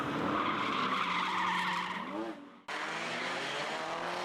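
Drift cars in a tandem competition run give out a loud, sustained tire squeal with engine roar. It dips briefly, cuts out, then resumes strongly at close range.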